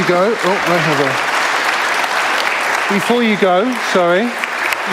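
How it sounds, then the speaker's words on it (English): An audience applauds a panel at a talk event, a dense wash of clapping with voices speaking over it for most of the stretch. "A round of applause for a wonderful panel"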